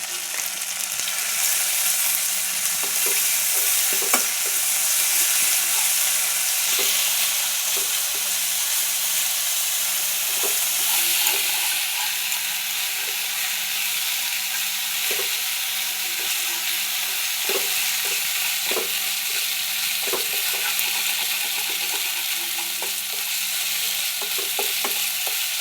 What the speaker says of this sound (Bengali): সমস্ত মশলা কষা হয়ে গেছে।